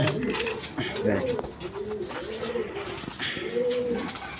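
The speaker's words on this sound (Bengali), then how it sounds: "গোপালগঞ্জের বড় পায়রা কবুতর এটা দেখেন" Big Gopalganj pigeons coo in a steady run of rolling, repeated calls, close and fairly loud, with someone talking over them in places.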